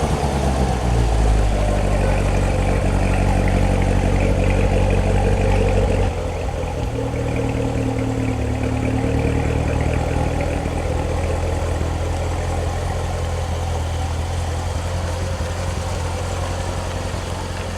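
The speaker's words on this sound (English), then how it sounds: "I hear a Corvette outside." A Corvette engine runs outside, a steady low rumble that shifts down in pitch partway through and continues idling, fairly loud and alone without talk.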